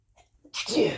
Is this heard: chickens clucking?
no